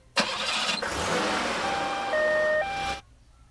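An ambulance engine starts up with a sharp crank in a mobile emergency-vehicle game, then settles into a steady synthetic idle with tonal siren-like notes before cutting off abruptly.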